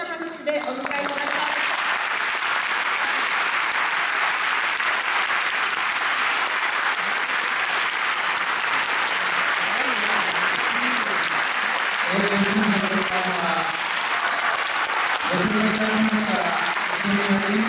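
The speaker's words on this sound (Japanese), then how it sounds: "どうぞ大きな拍手でお迎えください。" An audience claps loudly and steadily in a hall to welcome a speaker, a Tokyo gubernatorial candidate. Dense applause runs throughout, and voices can be heard beneath it toward the end.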